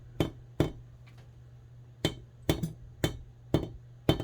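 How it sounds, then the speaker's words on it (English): A hammer peens a straight razor with sharp, ringing metallic taps, about nine close strikes spaced unevenly, some in quick pairs, over a low steady hum. "as I peen, it's going to want to run that"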